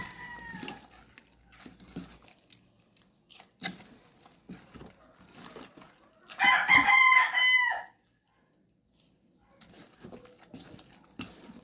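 A rooster crows loudly once, a long harmonic call, amid scattered clucking and soft rustling from nearby chickens.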